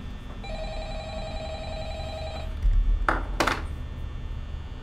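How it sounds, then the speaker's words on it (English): A phone ringing in the video game Five Nights at Freddy's: a steady electronic trill holds for about two and a half seconds against a low ambient hum, followed by a couple of brief clattering clicks, with no talk. "Another phone call."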